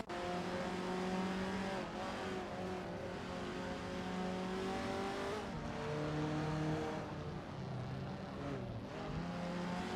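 Race cars in a racing video game roar continuously with layered engine tones that shift pitch as they accelerate and brake, with occasional tire squeal, loud and steady throughout, no talking.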